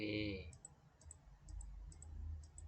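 Computer mouse clicks, a series of small, sharp clicks spaced irregularly under low background hum after a brief burst of speech at the start.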